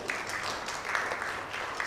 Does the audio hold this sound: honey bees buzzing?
no